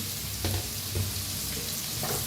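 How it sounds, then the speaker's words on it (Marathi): Sliced onions and green chilies fry in hot oil, a continuous even sizzling hiss with a few soft stirring bumps, close and steady, no talk. "छान असं भाजूया कांदा"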